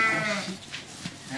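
A freshly sheared sheep on a farm gives one loud, close, wavering bleat, which then trails off into quieter rustling and small scuffling sounds.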